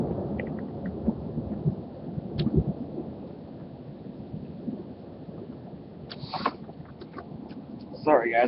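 Thunderstorm heard from a window, with steady rain hiss and low rumbling thunder swelling through, and a voice speaking briefly near the end.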